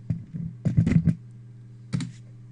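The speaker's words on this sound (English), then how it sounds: "So if we type in here Jeff" Someone types a short search word on a computer keyboard: a single click, a quick burst of several keystrokes, then one final tap. A low electrical hum sits underneath, and no one speaks.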